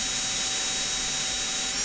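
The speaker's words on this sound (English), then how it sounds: "Now I'm going to proceed to go ahead and drill out" A small drill boring out the post of a model car casting, a steady close high-pitched whine with constant grinding noise throughout, no talk.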